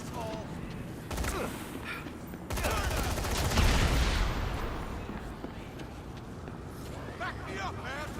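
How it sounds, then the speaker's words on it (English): Gunfire in the stealth game Hitman: a burst of dense, loud shots rises near the middle and trails off into lingering rattle and game noise, with a player's voice talking over parts of it. "Who was shooting at me?"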